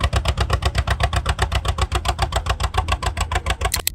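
An old tractor engine idles with a steady, loud putt-putt beat, its cylinders firing alternately in an even rhythm close by, with no voices.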